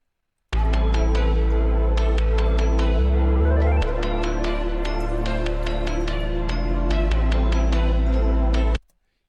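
Hip-hop beat assembled from a pitched, reversed sample layered with drums: a loud, steady loop of sustained tones and regular sharp hits, with a brief stuttering break partway, playing alone and then stopping abruptly.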